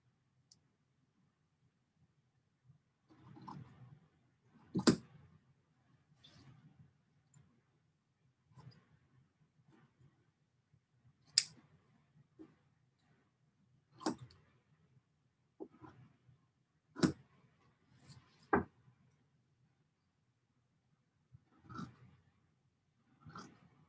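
Scissors snip through costume fabric in a quiet room, giving sparse, close, sharp cuts with short rustles between, irregularly spaced and with no talk.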